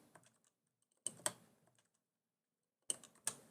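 Quiet bursts of computer keyboard typing, a few light key clicks and then two short clusters of sharper taps separated by silence, with no talking.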